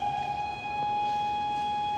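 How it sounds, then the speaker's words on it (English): Tornado warning sirens in Iowa wail as a sustained, steady tone during an approaching storm, holding a flat, even pitch against faint background noise, with no voices. "We started noticing the sirens going off."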